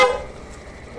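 A Suzuki Access 125 scooter with a loud dual horn gives two short honks, one at the start and one at the end, separated by a brief quiet gap.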